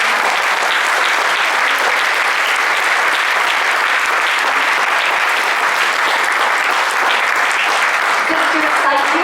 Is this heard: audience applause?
yes